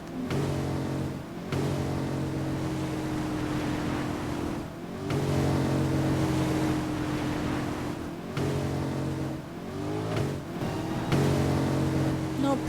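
A car drives along, its engine humming steadily with tonal harmonics that rise and fall as it speeds up and eases off, with a few abrupt breaks between stretches of driving.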